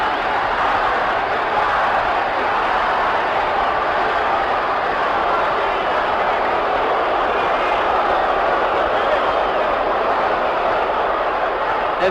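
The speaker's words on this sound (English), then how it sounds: "Ali leading his own cheering" A large arena crowd at the Ali and Frazier boxing fight roars in a steady, dense wash of cheering that stays loud and unbroken throughout.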